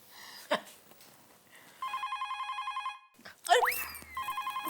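A telephone bell rings in rapid trilling bursts, two rings separated by a pause, with brief voices and noises in between.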